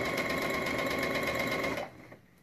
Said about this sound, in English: Let me know if you can hear me while the machine's going.